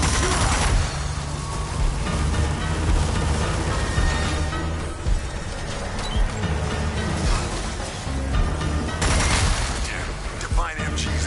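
Rapid machine gun fire rattles in the video game Zombie Army 4, loud continuous bursts with booms and crashes mixed in, briefly easing before another heavy volley.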